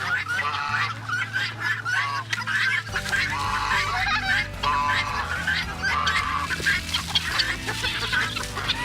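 On a farm in below-freezing weather, a big rooster and hens cluck and call close by, with overlapping honking calls and steady flock chatter throughout.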